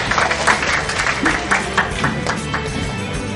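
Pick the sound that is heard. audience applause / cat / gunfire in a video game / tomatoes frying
audience applause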